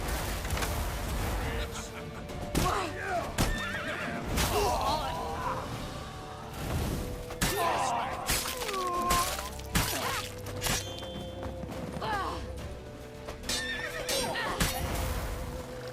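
Horses whinny and neigh repeatedly amid hoofbeats and clattering crashes, with shouting voices mixed in over a busy, chaotic chase scene in the video game The Witcher 3: Wild Hunt.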